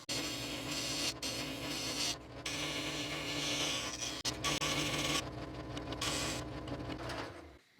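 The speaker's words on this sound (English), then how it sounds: "So I do it on the oscillating spinning sander." An oscillating spindle sander works a wooden guitar fretboard block, a steady close whirring hum with rasping friction that surges and briefly drops out several times as the wood is pressed and lifted.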